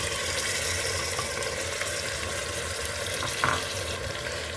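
Meat fries in a pan with onion and tomato sauce for a kabsa, giving off a continuous soft sizzling hiss with occasional faint stirring scrapes, quiet and steady with no talking.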